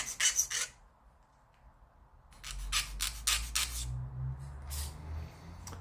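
Short bursts of scraping and rasping as excess paint is scraped off the plastic fuselage of an Airfix North American Mitchell Mk.II model kit, close and quiet, in a few separate strokes with pauses between.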